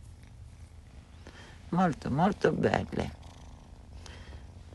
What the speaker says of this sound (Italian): Però già queste fusa sono molto belle stasera.